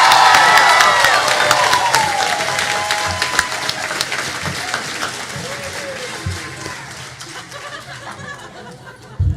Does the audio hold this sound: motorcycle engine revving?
no